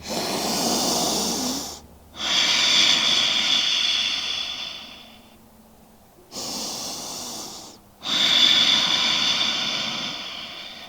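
Slow, deep breathing held through a yoga lizard pose, long broad inhales and exhales close to the mic in two full cycles separated by brief pauses, no talking.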